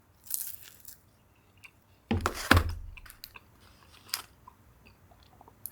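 Crunchy bites and chewing of fried Oreo cookies topped with caramel, close and fairly quiet, with a few irregular bursts of crunching separated by softer pauses.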